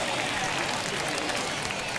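A hometown crowd at an opening-day baseball game in MLB The Show applauds and cheers in a steady, dense wash of clapping and noise with no breaks.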